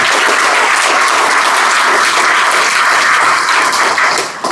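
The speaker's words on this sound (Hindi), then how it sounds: "तालियां बजा दो भाई।" Loud, dense applause from an audience cheering a CBSE Class 10 topper during a results event, continuous clapping at full strength before tapering at the end.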